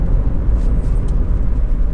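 A Toyota Yaris 1.0 VVT-i T Spirit three-door hatchback cruises along, heard from inside as a steady, low, muffled engine and road hum that stays quiet and even throughout.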